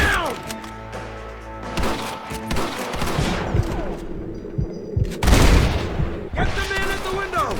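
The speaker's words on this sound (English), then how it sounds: "Gun them down!" Rapid gunfire in the Red Dead Redemption video game, with a burst of overlapping shots, bangs and impacts, then a loud blast and more scattered cracks, mixed with distant shouting.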